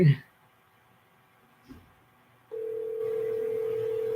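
A telephone line that goes unanswered: after a short clatter, a steady, unbroken dial tone starts midway and holds loud and even to the end, with no voices.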